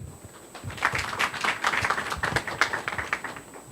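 Audience applause at a business forum on ESG management, a steady patter of many hands clapping at moderate distance, sustained for a few seconds without speech.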